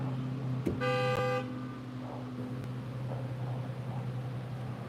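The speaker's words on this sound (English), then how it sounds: "I don't know who's honking." A car horn sounds on a road, one short toot followed by a longer sustained honk near the start, then fades out under steady traffic and engine rumble.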